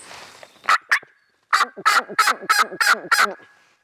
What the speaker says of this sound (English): At least 3 birds that have gobbled so far